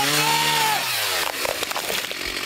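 Chainsaws run at the site of a wildfire cleanup, cutting through burned wood, a loud droning engine whine that drops in pitch as the blade bites, then continues with rough, gritty sawing noise.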